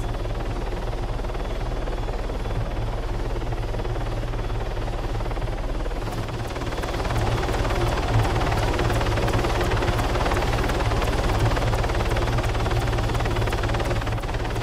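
A helicopter in the Altis Life game, its rotor and engine drone running continuously and loud for the whole stretch, the tone shifting slightly partway through as the machine changes pitch or position, with no talk over it.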